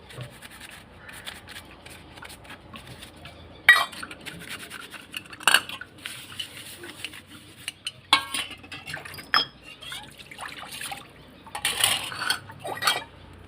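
Brass vessel and iron kadai being scrubbed and handled during cleaning, with scattered metallic clinks and scraping clatters at close range, quiet in between.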